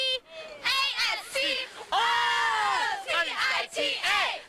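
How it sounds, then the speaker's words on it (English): Loud, bright shouts from a group of cheerleaders at a Texan tailgate, chanting a team cheer that spells out Atascocita letter by letter in sharp, rhythmic bursts lasting a few seconds. "Give me your best something, a cheer, real quick."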